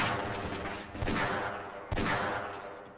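Loud gunfire from the Half-Life: Blue Shift video game, with two sharp blasts about a second apart, each followed by a long, dense, reverberant decay.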